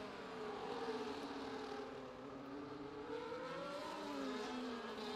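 Ferrari and McLaren Formula 1 cars race in a sim racing league event, their engines droning steadily and loudly with rising and falling pitch sweeps as the cars pass and shift.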